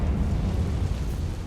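A Confringo fire spell goes off in the Hogwarts Legacy video game, a loud sustained rumbling blast that carries booming, eruptive energy for the whole moment with no voices over it.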